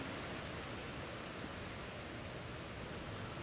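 Steady rain falls in a continuous broadband hiss, even and unbroken throughout, with no talk over it.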